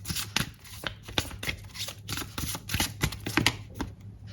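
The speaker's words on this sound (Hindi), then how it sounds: "तो मैं एक और कार्ड निकालूंगी।" Tarot cards shuffled in the hands before another card is drawn, a rapid close run of crisp riffling flicks and soft slaps that rises and falls in uneven bursts.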